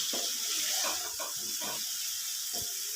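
A little water poured into a small bowl that held coriander leaves in a home kitchen, a soft steady trickle and splash running for a few seconds, fairly close and quiet with no talking.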